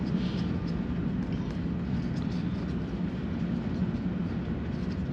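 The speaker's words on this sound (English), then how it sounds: "that's a train going by. I live real close to a train track." A train passes close to a house beside the railway track, a steady, loud low rumble of rolling wagons that fills the whole stretch without letup.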